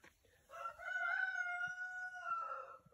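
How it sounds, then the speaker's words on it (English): Roosters crow at an alpaca farm, one long rising and falling call standing out clearly against a quiet background. "You can hear some roosters."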